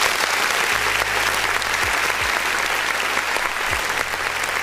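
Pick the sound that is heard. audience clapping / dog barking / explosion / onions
audience clapping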